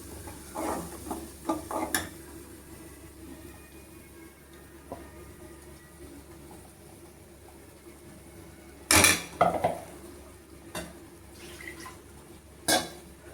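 Ground masala sautéing in a pan, a faint low sizzle under scattered clinks and scrapes of a spoon against the metal, with a few louder knocks standing out.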